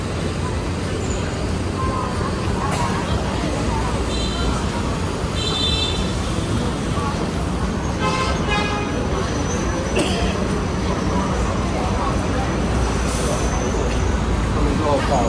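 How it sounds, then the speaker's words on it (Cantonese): Dense city street traffic in Shenzhen's Dongmen old street area, with many motorcycles and electric scooters passing, a steady loud roadway roar broken by brief horn toots throughout. "呢度都好多電單車、"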